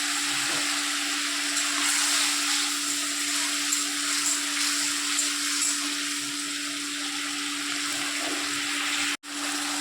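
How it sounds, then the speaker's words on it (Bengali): A spice mix for vegetable khichuri fries in a pan with a steady, even sizzle and a faint low hum underneath, continuous throughout before cutting off briefly near the end. "মশলাটাকে একটুখানি ভাজবো, ভেজে তারপরে এর মধ্যে মিশিয়ে দেবো"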